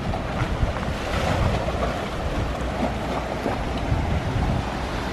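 Ocean waves wash beneath a natural rock land bridge on the Aruba coast, a steady broadband surf roar with gusting wind buffeting the microphone throughout, loud and continuous with no voices.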